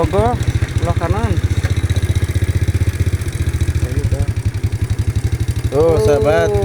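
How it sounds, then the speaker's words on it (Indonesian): A motorcycle engine idles steadily nearby on a village road, its low rhythmic putter continuous throughout while someone talks over it. "Motor itu tuh gagah sebelah kanan."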